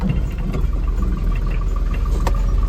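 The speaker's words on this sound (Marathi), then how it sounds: "ट्रॅक्टर चालू झालं" A tractor engine runs with a steady, fairly loud low rumble and light rattling throughout.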